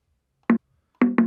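Conga hits in an amapiano beat, three short pitched drum strikes, one alone and then a quick pair, sparse and dry with silence between.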